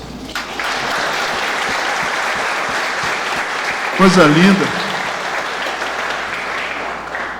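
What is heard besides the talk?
applause in a church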